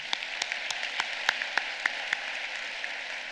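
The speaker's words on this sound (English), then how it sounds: "A round of applause." Scattered audience applause at a University of Michigan School of Social Work summer commencement, distinct individual claps popping over a soft, steady wash of clapping in a large hall.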